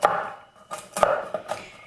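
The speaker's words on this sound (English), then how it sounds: "It's a rough chop." Walnuts roughly chopped with a knife on a board for a collard green salad: several crisp, separate knocks in an irregular rhythm, close up, with nothing else heard.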